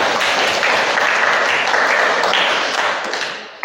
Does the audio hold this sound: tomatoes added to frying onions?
no